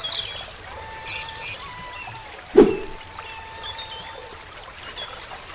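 A river flows along its bank in a steady, soft rush of water, with birds chirping faintly over it and one sharp knock partway through.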